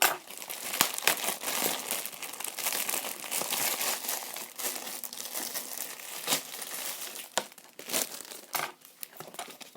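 Steady crinkling and rustling of plastic toy packaging, close and continuous, with sharp scissor snips and tearing sounds scattered throughout.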